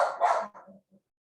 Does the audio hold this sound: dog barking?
yes